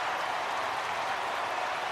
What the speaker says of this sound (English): perhaps the temperature of the cheer from the Welsh public tells you an awful lot